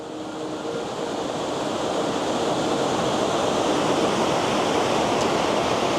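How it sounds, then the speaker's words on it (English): Twin waterfalls on Vancouver Island, one a thin pencil-like cascade, pour in a steady broadband roar that fades in briefly and then holds loud and constant, close by, with no voices. "We have two waterfalls here."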